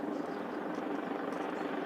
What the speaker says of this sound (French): Des hélicoptères tournent au-dessus du quartier.